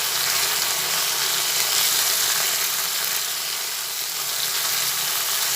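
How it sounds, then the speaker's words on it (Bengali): Spices frying with turmeric and Kashmiri chili powder in a pan, a steady loud hiss of sizzling that holds without a break, close and continuous, with no speech. "দুটো দিয়ে একসঙ্গে সব ভেজে নিচ্ছি"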